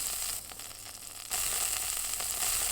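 Meat sizzles on a grill in the Yakiniku Simulator mobile game, a steady bright frying hiss that dips briefly then returns louder for the rest of the stretch, with no talking.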